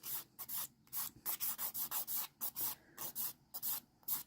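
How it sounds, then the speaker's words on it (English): Rapid, rhythmic scratchy rubbing of a nail file and buffer across a dip powder manicure surface, close and quiet, with even back-and-forth strokes and no voices. "we're going to go ahead and buff and file the top"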